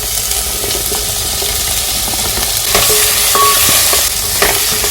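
Ginger, garlic, onions and chopped green pepper frying together in a pan for a rice and egg stew, a steady loud sizzle with stirring scrapes throughout and no voices.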